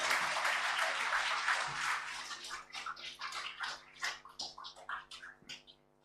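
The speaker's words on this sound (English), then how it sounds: "Let's give Dr. Sexios a round of applause." An audience applauds a speaker at a sustainable agriculture and culinary arts graduation ceremony, with full clapping at first that breaks into scattered, uneven claps as it fades.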